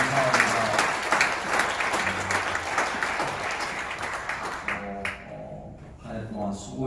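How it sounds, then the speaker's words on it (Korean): A church congregation at a New Year prayer meeting of pastors and elders applauds, dense sustained clapping filling the room before thinning out near the end, with a voice speaking over it. "우리 하나님께 감사와 영광의 박수를 한번 올려드리도록 하겠습니다"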